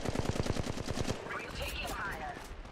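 Rapid automatic gunfire from the mobile battle royale game Apex Legends Mobile, a fast burst of evenly spaced shots for about a second, followed by game effect sounds and a busy firefight mix.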